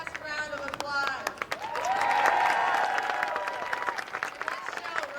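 Applause for the speakers at a Google workers' town hall, a crowd clapping and cheering that swells in the middle, with voices and brief tonal sounds laid over the clapping.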